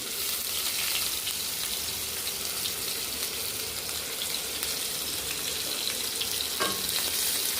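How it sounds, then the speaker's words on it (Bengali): Chopped onion fries in a couple of tablespoons of mustard oil, giving a constant dense sizzle close by, with an occasional faint scrape of stirring. "পেঁয়াজ কুচিটা একটু ভেজে নেব"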